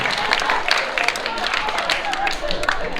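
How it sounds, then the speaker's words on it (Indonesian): A group breaks into dense, sustained applause, many hands clapping loudly and continuously for a few seconds, with voices mixed in underneath. "tepuk tangan untuk kita semuanya"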